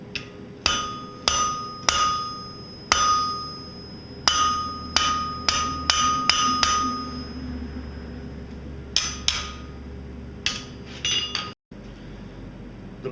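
Hand hammer striking hot metal on an anvil to forge a blunt steep taper for a dragon's foot, about twenty loud ringing blows in uneven bursts with short pauses, close and alone.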